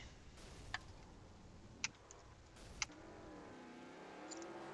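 Racing engines of NASCAR Legends cars in iRacing at Road Atlanta drone and rise in pitch as cars approach, with a few sharp clicks punctuating the steady motor noise.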